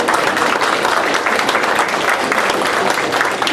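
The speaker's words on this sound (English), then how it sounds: "if you could give another big round of applause to our Chief Beck" Crowd at a neighborhood improvement association meeting in Glassell Park gives loud, sustained applause for the LAPD police chief, a dense continuous roar of clapping from close by.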